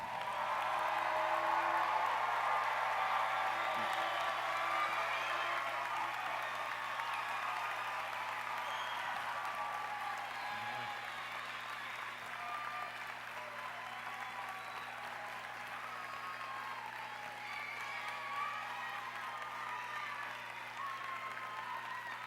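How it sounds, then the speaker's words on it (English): A large audience at a college of education commencement ceremony applauds the standing graduates with sustained, even clapping that slowly tapers off, with a voice speaking briefly near the end. "Let's give them one more round of applause."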